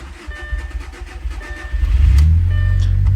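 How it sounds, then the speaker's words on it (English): A 2.0 TFSI engine on an Audi B7 A4 under low-pressure fuel pump gasket repair cranks briefly, then catches and settles into a loud, steady idle close by, with no talking. "we're just going to start it, let it run until the car dies"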